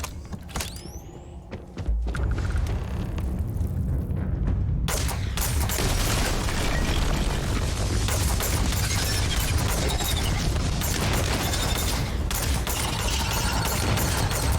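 Dense, continuous explosions and rapid gunfire in Starfield roar loudly after a brief quieter opening with a few thuds.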